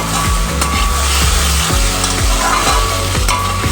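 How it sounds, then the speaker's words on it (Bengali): Gathi taro curry with spices and melted tomatoes sizzles loudly in a pan, with steady rhythmic stirring scrapes repeating every half second or so. "মশলার সঙ্গে খুব ভালো করে ভাজা ভাজা হয়ে গেছে গাঠি আলুটা"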